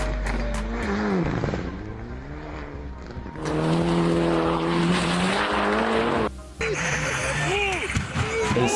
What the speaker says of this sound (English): A sports car has crashed.